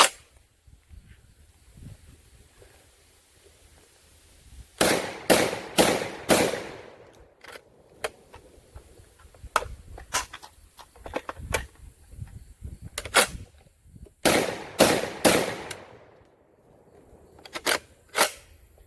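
A Tristar Compact 12 gauge bullpup shotgun fires outdoors in sharp, loud blasts, some in quick clusters of three or four and others single, with quieter handling clatter between shots.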